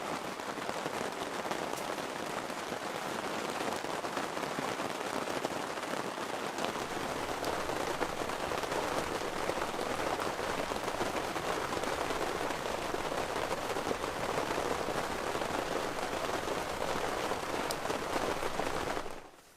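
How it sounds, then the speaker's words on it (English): Rain patters steadily on a canvas hot tent in the forest, a dense, even hiss with scattered sharper drops throughout and no talking. "It sounds like it's still raining, but I think it's just droplets falling off of the trees above."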